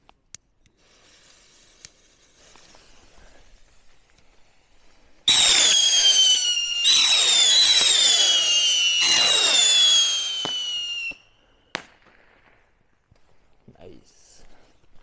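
After some quiet movement, a loud chorus of whistling fireworks shrieks in three successive bursts with crackles, then stops suddenly, leaving faint rustling.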